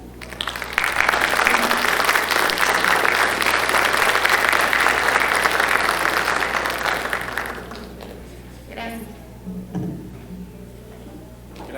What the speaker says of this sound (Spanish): Le damos un aplauso al doctor.